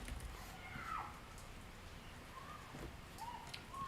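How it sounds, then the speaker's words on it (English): Rain falls outside an open window, a faint, steady patter with soft drips, while a bird calls now and then in the distance. "I've got my window open and it's raining."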